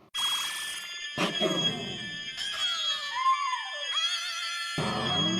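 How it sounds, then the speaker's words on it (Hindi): A phone ringtone plays loudly in repeated bursts in a courtroom, a bright warbling melody with brief pauses between phrases. "अरे जज साहब का ही फोन बजा"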